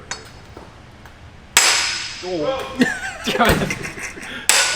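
A big hammer strikes metal parts while a drift car subframe for a Nissan S15 is assembled, with two sharp, loud clangs, one near the middle and one at the end, amid voices talking and laughing.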